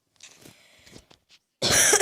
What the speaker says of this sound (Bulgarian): Извинявам се за кашлята.